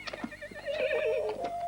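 A horse in an old Western setting gives a loud, close neigh, a wavering whinny lasting over a second, with faint hoof movement early on.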